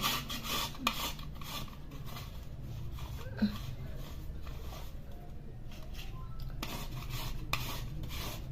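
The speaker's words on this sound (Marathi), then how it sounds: "आपल्याला अर्धी वाटी आता गुळ किसून घ्यायचं" Chemical-free jaggery is grated by hand in a kitchen, giving quiet, repeated rasping scrapes in short strokes with a few faint clinks, close and soft.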